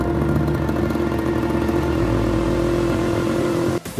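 A motorcycle engine runs at a steady loud drone during a road trip, holding a constant hum and pitch before a brief dip near the end, with no talk.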